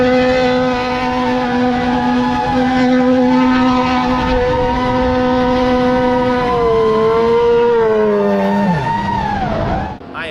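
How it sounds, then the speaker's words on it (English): A 1983 Subaru wagon engine holds a steady, strained high-revving drone while doing donuts at a Sonoma track event, loud and close, with the pitch sagging and dropping off near the end. "I am driving a 1983 Subaru wagon"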